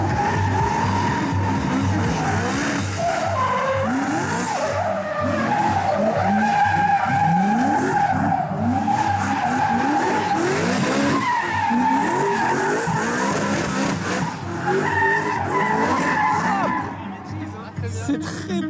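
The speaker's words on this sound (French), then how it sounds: "les prochaines voitures qui vont partir en drift" Drift cars screeching their tires continuously at a live drifting show, with loud engines revving and wailing in waves and a dense, sustained squeal throughout.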